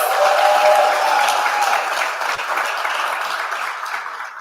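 Audience applause at the official opening of an entrepreneurs' event, Islandpreneur Live 2023, a loud sustained round of clapping from a crowd that gradually thins toward the end, alone without speech.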